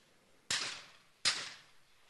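Two shotgun blasts ring out at a clay shooting championship, sharp cracks about three-quarters of a second apart, each trailing off in a short echo, heard from a moderate distance.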